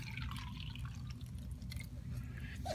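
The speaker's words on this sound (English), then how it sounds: "Now the salt water is going to be the inside. I'm going to pour that in there." Salt water poured into a jar, a soft continuous trickle and drip of liquid running steadily throughout at close range, with no voices.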